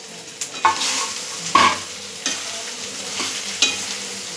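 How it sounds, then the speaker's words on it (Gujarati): Boiled, peeled potatoes being stirred and mixed in a pan, with a series of distinct scraping strokes about once a second over a light sizzle, close and clear, with no talking. "બટાકા એડ કરી અને આપણે બરાબર મિક્સ કરી લેશું"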